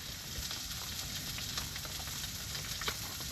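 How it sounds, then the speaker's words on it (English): Steak sizzles and fries in a pan outdoors at Clear Lake, Iowa, a steady crackling hiss with small pops throughout, moderately loud and continuous with no talking. "Cooking steak."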